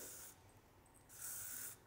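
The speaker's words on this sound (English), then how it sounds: "I spray a little Infinium 3, because Infinium 3 is a working spray" L'Oreal Infinium 3 hair spray gives two short fine-mist bursts, the second longer, close and soft with no voices.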